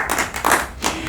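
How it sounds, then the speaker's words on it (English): A small audience at a film award Q&A claps briefly for the winners, a few close, uneven hand claps and taps in a short burst. "Give them the round of applause who deserves."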